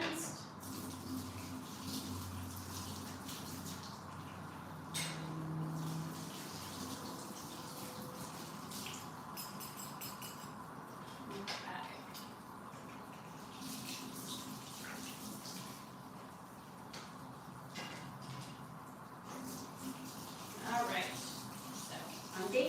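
Baking dishes being rinsed under a running tap in a home kitchen during Christmas cookie baking: a steady, soft rush of water with occasional clinks and splashes throughout.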